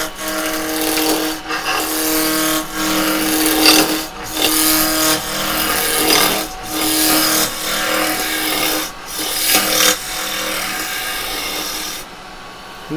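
Wood lathe roughing down a spinning blank with a roughing gouge, a loud continuous rasping cut with steady rhythmic surges as the tool passes along the wood, close and dominant, fading at the end.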